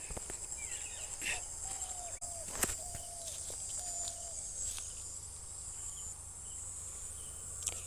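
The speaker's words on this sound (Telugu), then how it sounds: "ఇక్కడ ఇన్సెక్ట్స్ సౌండ్ కూడా వినబడుతుంది." Insects chirp steadily through a quiet farm field, a constant high shrill buzz running the whole time, with a few faint bird calls and occasional soft rustles nearby.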